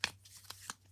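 Playing cards are handled and drawn from a deck, with a few soft snaps and slides close up, spaced out over a short, quiet moment and no talk.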